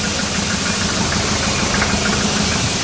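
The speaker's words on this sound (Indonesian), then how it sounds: "Oke, ini kondisi nyala ya guys. Ini gue deketin mic-nya ke mesin." Mercedes-Benz Tiger 240 D diesel engine idling with the microphone held close to it, a steady loud, low knocking clatter running evenly throughout with no one talking.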